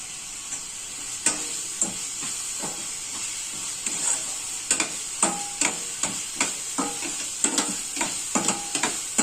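Masala with turmeric being stirred in a hot pan: a low, steady sizzle with frequent sharp spoon scrapes and taps against the pan, growing busier toward the end, close by and without speech.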